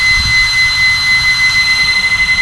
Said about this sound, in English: as you can hear, these fans are way louder than the stock ones, and they definitely output a lot